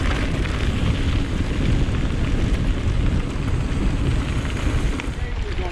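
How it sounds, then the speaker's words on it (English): Loud, steady wind roars and buffets the microphone throughout on open moorland in County Durham, a constant rumbling gust with no break. "it's ridiculously windy"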